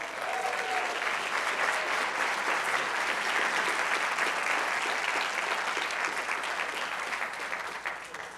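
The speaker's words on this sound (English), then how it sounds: "Give him a big round of applause." Audience applause greets a guest called up on stage at a talk event, a steady dense wash of clapping that holds for the whole stretch before easing slightly at the end.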